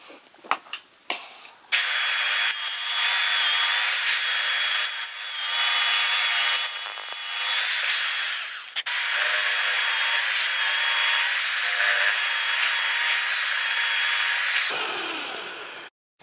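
Power drill boring holes through a wooden marking gauge held in a clamp, a steady loud whine that runs almost continuously for about thirteen seconds with brief dips, then stops, with no talking.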